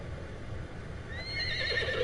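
A horse neighs in a PS4 video game, a rising whinny that comes in over low background noise toward the end, fairly close and moderately loud.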